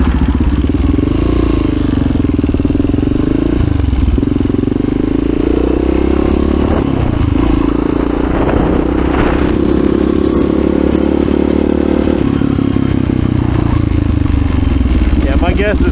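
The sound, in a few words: HRC XR628R motorcycle engine revving, carburetor breaking up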